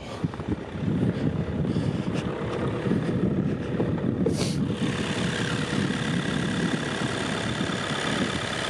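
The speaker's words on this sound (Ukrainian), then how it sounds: "По двигуну він може трошки зараз на обертах працювати, бо він прогрівається." A 2021 VW Passat Alltrack 2.0 TDI diesel engine idles while warming up, a continuous low rumble partly buried under steady wind noise, with no talking.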